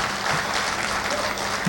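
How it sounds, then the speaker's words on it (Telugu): A hall audience at a speech event claps loudly, a dense, even burst of many hands filling the room throughout. "సరే గట్టిగా చప్పట్లు."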